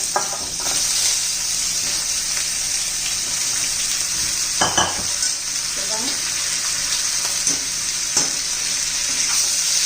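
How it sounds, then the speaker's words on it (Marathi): Freshly washed mixed vegetables sauté in oil in a pan, a loud continuous sizzle with occasional stirring scrapes and clatter, heard close and alone without speech. "तर त्यामध्ये आपण ह्या स्वच्छ अशा धुवून घेतलेल्या आहेत भाज्या त्या घालून घेऊया भाज्या चांगल्या परतून घेऊया"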